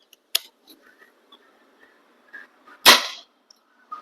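A Precihole PP100 Chimera BX3 air rifle fires a single sharp, loud crack, preceded by a small click and a few faint mechanical ticks, then quiet.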